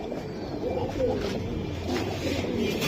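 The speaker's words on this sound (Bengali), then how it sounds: "সাইজের এক পেয়ার মিলিটারি কবুতর।" A pair of military cheetah pigeons coo softly and repeatedly at close range, low throaty calls in a steady run, with faint background noise and no clear talk.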